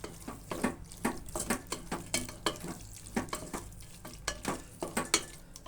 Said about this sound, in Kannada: ಸ್ವಲ್ಪ ಹಾಕ್ಬಿಟ್ಟು ಚೆನ್ನಾಗಿ ಮಿಶ್ರಣ ಮಾಡಿ